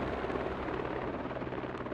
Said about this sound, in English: the helicopter's swinging around for another go at it